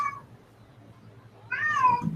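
A cat meows nearby, first with a short cry, then after a quiet pause with a louder, longer drawn-out meow, over a low steady background hum.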